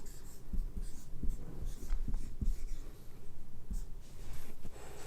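Edge names for a cuboid are written on a board: close, irregular scratching pen strokes with sharp taps and short pauses between letters, no talk over them.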